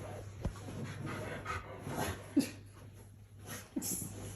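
An indoor dog in pain, heard close by with soft whimpers, breathing and panting plus a few faint sharp sounds, alone and fairly quiet.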